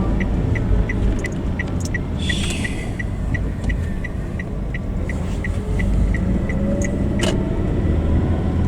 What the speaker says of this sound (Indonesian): di sini kebanyakan mobil dan jalannya itu Anda boleh lihat sendiri